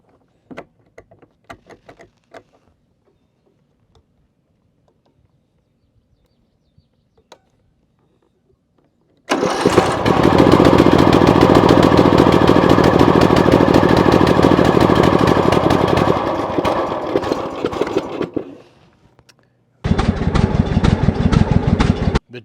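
A Hustler Sport 42 zero-turn mower engine fires up on full choke with a sticking choke, running loud and rough for about nine seconds, cutting out, then restarting briefly after a pause.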